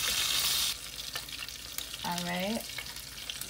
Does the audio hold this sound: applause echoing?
no